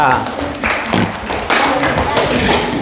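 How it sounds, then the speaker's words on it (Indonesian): Students in a classroom clap for a classmate in steady, loud, continuous applause that fills the room, with voices mixed in. "Tepuk tangan untuk Alisa"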